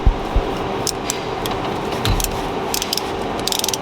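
The shaft of a Ford F150 AC compressor with a failed clutch is turned by its bolt, giving a continuous ratcheting, clicking rattle of small mechanical clicks, close and alone.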